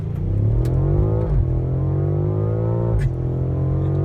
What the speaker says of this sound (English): it does allow you to get more exhaust noise out of it